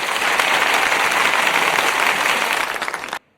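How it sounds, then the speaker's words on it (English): Loud, dense crowd applause rolls steadily for about three seconds, then cuts off sharply to silence. "let's give my man Marvelous Videos a round of applause"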